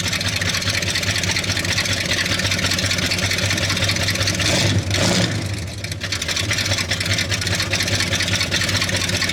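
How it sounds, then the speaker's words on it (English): A Ford Highboy engine rumbles loud and close at idle, rises briefly as gas is given around the middle, then settles back to a steady running drone. "I'm going to give a little bit of gas"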